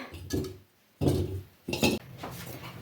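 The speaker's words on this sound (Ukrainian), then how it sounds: "Додаємо також в баночку кидаю в банку огірки" Cucumbers dropped into a glass jar while packing a mixed vegetable preserve, producing a few hollow thuds and clinks in separate bursts, close up.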